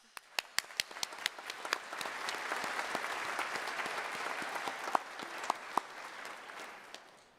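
A crowd at an Indigenous honouring ceremony applauds, with sharp individual claps standing out over a dense, steady wash of clapping that swells and then fades.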